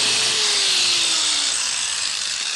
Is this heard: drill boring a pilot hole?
yes